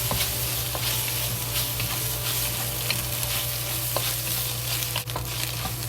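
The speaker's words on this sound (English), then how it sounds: "Then we add the eggs back to fry." Eggs and scallions stir-fry in a hot pan, a steady close sizzle broken by the faint scrape of a stirring spatula.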